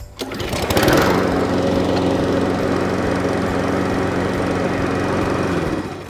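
A brand-new Cobra MX534SPH petrol lawn mower engine catches after a pull start and settles into a loud, steady, close running drone that holds for about five seconds before cutting off.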